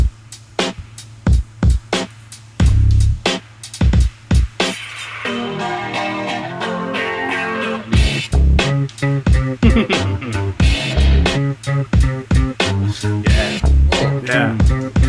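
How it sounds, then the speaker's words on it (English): An electronic track with a wonky, unreal feel, built on plucky steel drum-like tones in a choppy, stuttering rhythm over low bass hits, loud and without speech. "It's like a steel drum sound"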